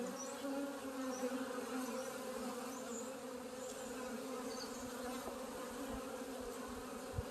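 Many honey bees buzz in a soft, continuous drone around a hive, rising and falling slightly in pitch, fairly quiet.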